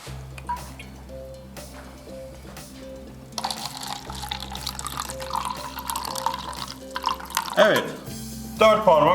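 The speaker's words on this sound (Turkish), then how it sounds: "Şimdi ben suyu koyuyorum tamam mı?" Water is poured into a beaker for a citric acid experiment from a children's science kit, a soft trickling that grows louder near the end, beneath people talking.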